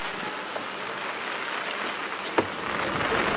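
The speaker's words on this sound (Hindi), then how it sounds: "बारिश हो रही है यार, भीग रहे तुम लोग" Rain falls steadily outside a restaurant in Bandra, a dense even hiss with one sharp drop or tap partway through, and no voices.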